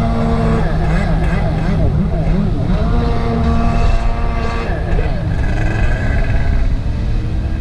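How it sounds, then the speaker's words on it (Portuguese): A two-stroke jet ski engine buzzing and revving on Lagoa da Conceição, a loud continuous droning whine with shifting pitch, close by throughout. "Motor dois tempo, né? Fica fazendo barulho de DKV."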